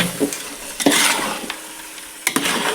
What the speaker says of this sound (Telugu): సో బాగా కలపాలి ఇంకా మసాలా దీనికంతా పట్టుకునేంత వరకు